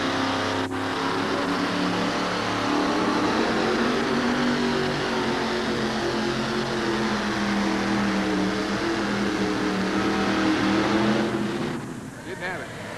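A truck-pulling rig's engine roars steadily and loud as it drags a weighted sled down a 130-foot track at a 1988 Albany pulling event, holding one sustained bellow with announcer talk on top before a brief drop near the end.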